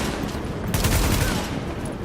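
Sustained gunfire in the video game The Division, a loud, dense, continuous barrage of shots filling the whole moment with little let-up.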